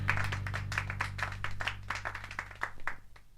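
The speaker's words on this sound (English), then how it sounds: "A round of applause for Urishima, please." A short round of applause with a few hands clapping in uneven rhythm over a low steady hum, close and moderately loud, trailing off at the end.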